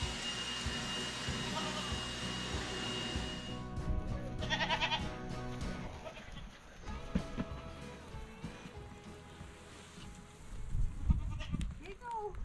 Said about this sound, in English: But it's feed for the goats.